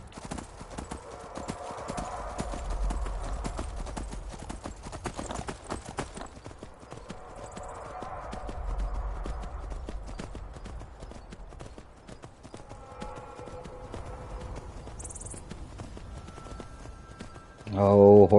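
In the video game Skyrim, a horse's hooves clip-clop in a steady rhythmic patter as it climbs a mountain peak. A brief whinny comes near the end, and game ambience and faint speech sit underneath.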